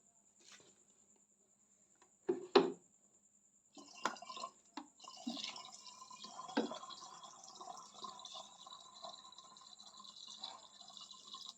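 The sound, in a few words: water being poured into a battery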